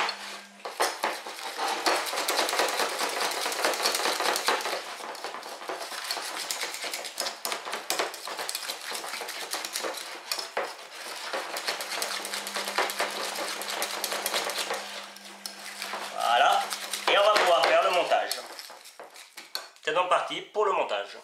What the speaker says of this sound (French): On mélange correctement pendant une minute.